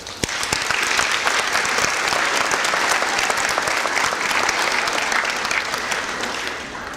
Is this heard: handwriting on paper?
no